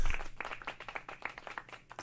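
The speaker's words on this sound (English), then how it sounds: "Clap it up" Hands clap in a quick, slightly uneven series of sharp, close claps, one person or a few, with faint background sound between them and no speech.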